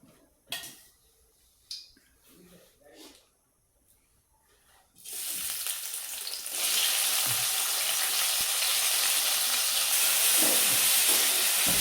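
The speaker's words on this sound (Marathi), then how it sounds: "तर आपण आता हे सगळं चांगलं मस्तपैकी परतून घेऊया." Chopped onion and tomato hit a hot pan for a dried-fish chutney, bursting into a loud, steady sizzle that fills the second half after a few quiet knocks and clatters of preparation.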